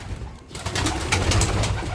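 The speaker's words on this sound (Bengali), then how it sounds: "আপনাদের একটু এক জোড়া লাল বনু কবুতরের বাচ্চা আছে, তো বাচ্চা জোড়াটা আমি দেখাচ্ছি।" A pair of red Bunu pigeon chicks gives low, soft cooing sounds that run steadily through the clip against a constant rustling background, with no talking.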